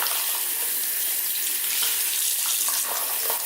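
Tap water runs steadily into a sink while a makeup sponge is rinsed clean of shampoo bubbles, a continuous close splashing hiss with no talking.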